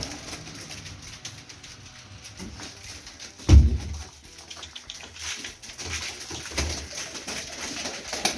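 Pigeons in a loft coo softly against a busy background of rustling and fluttering, with one louder low thump partway through.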